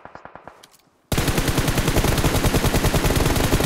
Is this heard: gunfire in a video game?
yes